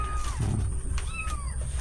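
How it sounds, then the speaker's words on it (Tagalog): A cat meows a few times, close by, with thin high calls that rise and bend, over a steady hum and some low background noise. "Ayun yung pusa."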